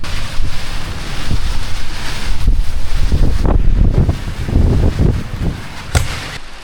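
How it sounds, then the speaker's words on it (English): Strong coastal wind on the California coast buffets the microphone in loud, gusty bursts, rumbling and roaring unevenly with surging waves of noise. "These winds are crazy coming off the California coast here."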